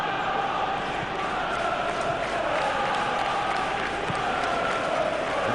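Steady roar of a football stadium crowd at a Tottenham Hotspur vs Fulham Premier League match in a video game, a continuous dense murmur with faint thuds, spread wide and filling the whole clip under light commentary.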